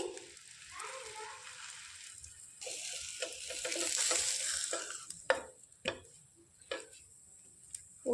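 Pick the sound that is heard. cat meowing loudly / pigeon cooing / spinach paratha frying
spinach paratha frying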